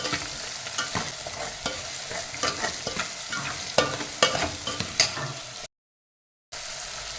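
Small onions and garlic sautéing in a pan with salt: a close, busy sizzle with repeated spoon scrapes and stirring clatter, then a brief dead-silent gap before the frying resumes, with no voices.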